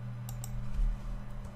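A computer mouse clicks a button twice in quick succession early on, sharp and close, over a steady low electrical hum with no speech.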